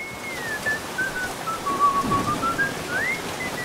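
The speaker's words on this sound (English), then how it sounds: "Who the hell's whistling?" Whistling in the video game Aliens: Dark Descent, a single clear, thin, wavering whistle that glides slowly down and back up over a faint hissing ambience, with no talk over it.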